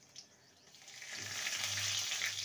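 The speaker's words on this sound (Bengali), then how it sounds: "ফোড়নে দেবো হাফ টিস্পুন গোটা জিরে" Whole cumin seeds and a bay leaf torn in two sizzle in hot mustard oil in a kadai, a steady close frying hiss that swells and holds strong, with no voices.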